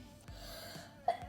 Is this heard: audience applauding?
no